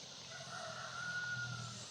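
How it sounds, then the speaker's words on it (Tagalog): Chickens cluck and a rooster crows somewhere in the mountains, a faint, steady farmyard sound that sits at a moderate distance under a continuous hiss, with no talking. "Manok, manok, manok."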